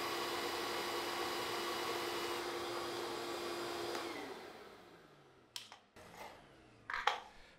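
A shop vac upgraded with a 50-gallon drum runs with a loud, steady roar during an airflow measurement, then winds down, followed by a few sharp handling clunks and rattles. No one speaks.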